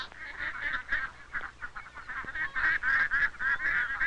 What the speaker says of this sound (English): The judge was having a hard time deciding among the ducks.